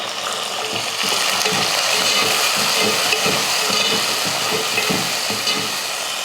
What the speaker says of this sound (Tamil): இப்போ இதில் தக்காளி சேர்த்துடலாம்.